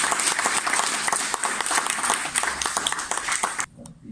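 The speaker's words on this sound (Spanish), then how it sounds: "Un fuerte aplauso." Audience at a poetry book presentation clapping heartily, a dense, bright burst of applause that stops abruptly near the end, leaving near silence.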